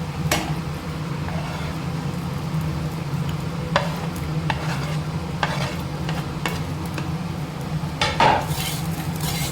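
Okra is stirred in a cooking pan, producing steady scraping and clinking of a utensil against metal over a low sizzle, with repeated sharp knocks spread across the clip.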